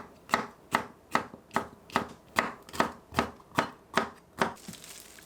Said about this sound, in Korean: 파프리카도 썰어주고